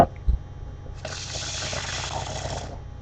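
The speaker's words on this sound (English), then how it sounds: "Pour a little bit more water in there." Water poured into a pan of gravy during Southern Sunday dinner cooking, a steady splashing hiss that runs for under two seconds before cutting off, close and fairly loud.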